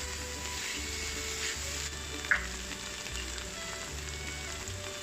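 Eggs being stir-fried in a wok, with a steady soft sizzle broken by occasional clinks and a brief scrape, and no one talking.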